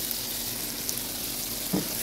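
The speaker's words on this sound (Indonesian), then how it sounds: "Aduk dulu agar tidak gosong." Sliced tomatoes frying in a pan while being stirred, a steady close sizzle with a light scrape of the spoon near the end.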